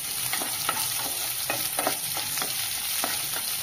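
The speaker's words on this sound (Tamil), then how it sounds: "இதுவும் சேர்த்து நல்லா வறுத்துக்கோங்க." Small onions and curry leaves fry in hot oil in a pan for a Tamil-style aubergine curry, giving a steady close sizzle with occasional stirring scrapes and no talk.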